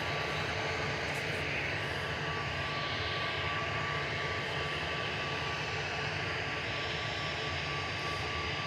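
Jet2 airliner's engines roaring steadily at Manchester Airport as it lines up for departure to Tenerife South, a loud continuous broadband rumble with a thin steady whine holding throughout.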